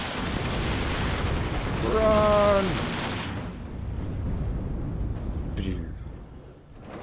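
Explosions and gunfire from the WARNO real-time war strategy game, a broadband blast followed by rumbling battle noise, heard under a commentator's shouted voice and a brief siren-like wail.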